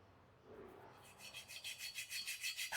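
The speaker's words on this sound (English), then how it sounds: "I'm using a coarse file first to remove most of the corner" A coarse hand file rasps across the corner of a metal vice being squared, faint at first and then settling into steady, regular back-and-forth strokes that grow louder toward the end.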